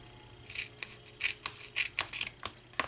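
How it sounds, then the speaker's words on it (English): Scissors cut tape in a series of close, crisp snips and rasping slices at an uneven pace, alone over a faint steady hum. "I'm using my scissors here"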